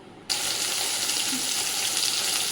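Eggplant slices frying in oil left over from frying hilsa fish, a sudden loud, steady sizzle that bursts in as the pieces hit the pan and then holds close and continuous.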